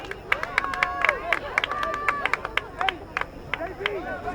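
Crowd at a high school football game at night in Cambridge, a steady babble of many voices with scattered whistles, shouts and claps rising above it, fairly close and busy throughout.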